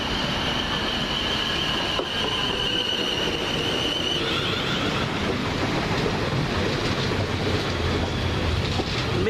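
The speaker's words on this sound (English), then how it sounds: "this is the 1032 South West Train service from Portsmouth and Southsea to London Waterloo via Havant" A 12-coach South West Trains Class 450 electric multiple unit pulls into a station on the Portsmouth and Southsea to London Waterloo service, with a loud, steady rumble of wheels on rails, a faint brake squeal and rhythmic clatter across the whole stretch.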